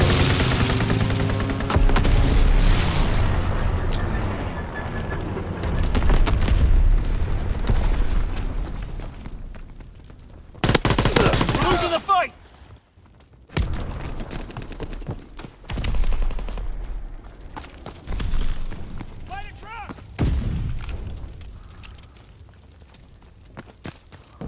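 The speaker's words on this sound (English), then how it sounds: "Enemy bomb incoming! Get to cover!" Call of Duty: WWII battle on Xbox One with dense bursts of gunfire and heavy bomb explosions, loud blasts cutting in and out between rattling volleys, no talk.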